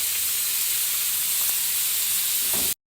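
Onions fry toward golden brown in a pan for a spicy okra and onion sabzi, giving a loud, steady, close sizzle and hiss that cuts off abruptly at the end.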